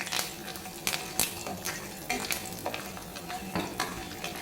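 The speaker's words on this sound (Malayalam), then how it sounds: "ഇനി അതെല്ലാം ഒരു ചെറിയൊരു ബ്രൗൺ കളർ വന്ന ശേഷം നമുക്ക് നിലക്കടല ആഡ് ചെയ്ത് കൊടുക്കാം" Peanuts crackle in hot oil with mustard seeds and urad dal, a steady frying sizzle broken by repeated sharp scrapes of a spoon stirring against the pan.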